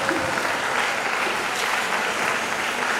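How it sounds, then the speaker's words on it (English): Sustained applause from an audience at an International Women's Day event honouring professional women engineers, steady dense clapping throughout without a break. "So keep clapping until she takes her seat."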